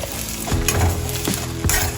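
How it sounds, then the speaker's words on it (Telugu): Tomatoes and chillies frying in a pan for a Telugu chutney give off a steady loud sizzle, with scraping stirs from a spoon at irregular intervals and no voices. "అది వేగాలి, బాగా వేగితే పైకి వచ్చేసుకుంటున్నాను కదా."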